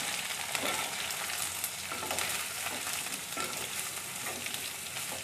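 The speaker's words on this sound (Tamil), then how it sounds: "முட்டைக்கோஸ் ஆட் பண்ணிக்கிறேன். இப்போ வணக்கி விட்டுறலாம்." Shredded cabbage stir-fries in a pan for a Kerala-style thoran with chilies. A steady, close sizzle is broken by repeated scraping stirs, with no talking.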